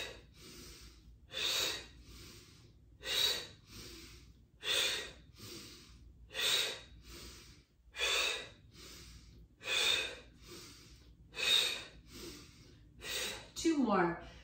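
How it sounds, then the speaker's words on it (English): Deep rhythmic breaths during a morning yoga flow, about eight or nine strong mouth exhales with softer inhales between, evenly spaced every one to two seconds, close and loud with no talking. "Inhale, hands towards you, and exhale through your mouth."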